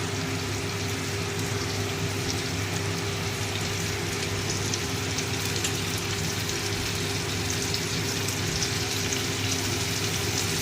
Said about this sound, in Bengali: এবার আমি টমেটো দিয়ে দিচ্ছি